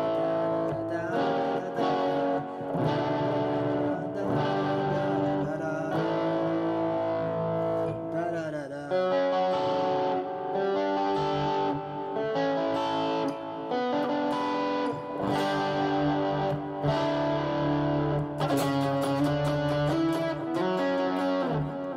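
A distorted electric guitar plays a lead solo over a full band, loud and continuous with sustained bends and fast runs.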